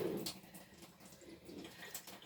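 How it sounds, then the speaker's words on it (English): A brief, quiet trickle of water being sprinkled into glue with a few soft splashes, close by and faint. "Might need a little sprinkle of water in there"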